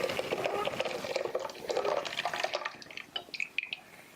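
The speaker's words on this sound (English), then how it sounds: "now in a bowl, you want to add your activated yeast with the water." Activated yeast and water pour from a container into a bowl for bread dough, a gurgling splash that trails off into a few drips near the end.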